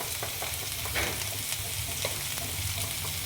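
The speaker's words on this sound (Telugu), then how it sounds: "ఉల్లి ముక్కలు వేయాలి ఒకసారి చక్కగా కలపాలి" Onion pieces fry and get stirred in a pan for a radish and coconut-spice curry, a soft continuous sizzle with frequent light scraping strokes, close but quiet, with no voices.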